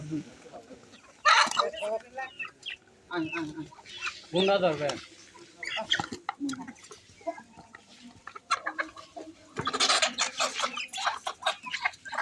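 A flock of ducks and chickens feeding, with chickens clucking and squawking in scattered bursts and a busy rustle of pecking throughout, at moderate distance.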